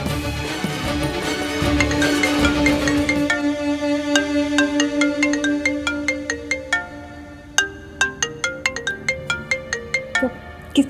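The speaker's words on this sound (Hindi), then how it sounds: "किसका फोन है?" A phone ringtone plays as a bright, repeating electronic melody, starting over a humming tone, then continuing as crisp plucked notes in a steady rhythm, clear and close.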